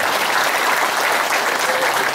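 A crowd claps steadily, a dense and even wash of applause that continues without a break.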